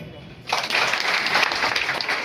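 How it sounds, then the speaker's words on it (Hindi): An audience at a business seminar breaks into sustained, loud clapping that begins abruptly and fills the room, with a speaker's amplified voice faintly underneath. "ताली बजाओ"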